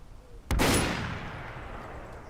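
A single loud gunshot from a weapon in the video game Fallout London, a sharp blast with a long decaying tail, with no talk.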